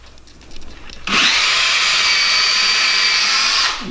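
A power drill bores a pilot hole into willow wood for a chair, starting after a short pause and running at a steady high whine for nearly three seconds before easing off.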